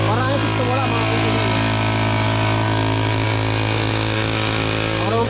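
A gas-powered grass cutter runs continuously at high revs while clearing grass, a loud, steady, buzzing engine drone close to the listener, with a person speaking over it.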